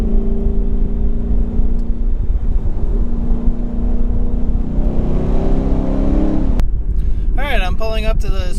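A Ford Mustang Roush Warrior drives with a steady, loud engine drone and road roar, then the engine note shifts and swoops near the end as speed changes.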